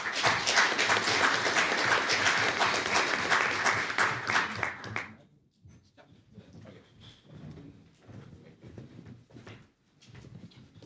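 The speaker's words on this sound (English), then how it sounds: "A round of applause, please." Conference audience applauding a speaker at a network operators' event: a burst of crowd clapping for about five seconds that cuts off abruptly, followed by quieter room noise and shuffling.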